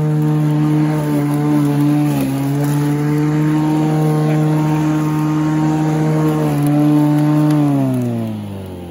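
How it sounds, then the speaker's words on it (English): A Sun Joe MJ401C battery-powered lawn mower cuts grass close up against a house wall, its motor whining steadily and loudly with a sustained tonal hum that dips briefly in pitch and drops away at the end, with no voices. "But I'm cutting pretty close to the house here."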